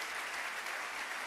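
A church congregation claps at a Sunday service, a dense and steady wash of applause from many hands that is fairly faint and continuous throughout.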